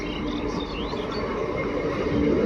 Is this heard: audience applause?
no